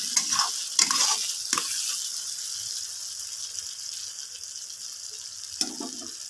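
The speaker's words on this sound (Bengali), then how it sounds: "আলু কষার ক্ষেত্রে মশলাটাকে খুব ভালোভাবে কষাতে হবে" Potatoes stir-fried with spice masala for Bengali aloo kosha: a steady sizzle in the pan with a few sharp spatula scrapes near the start and another near the end, close up.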